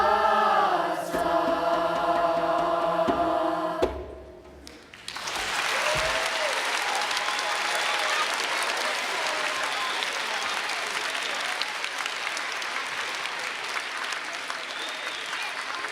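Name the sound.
audience applause for a choir performance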